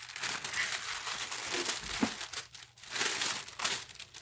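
Decorative gift wrapping paper crinkles and rustles as it is carefully unwrapped, a steady close crackling with a few sharper crunches, no talking over it.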